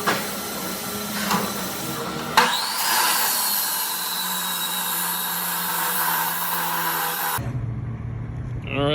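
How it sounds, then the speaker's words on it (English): Cutting tool grinding steadily through the welded steel shell of a third-generation Toyota Prius catalytic converter, a loud continuous harsh whine that starts after a short clatter and stops abruptly near the end. "I'm going to go ahead and cut this around this weld here next"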